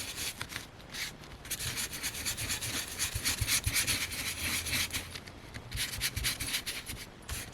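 Dry brush dragged across wrinkled paper while crafting a shabby stacked envelope booklet, giving a steady close scratchy rubbing with rhythmic strokes throughout and no talk.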